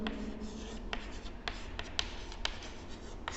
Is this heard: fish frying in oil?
no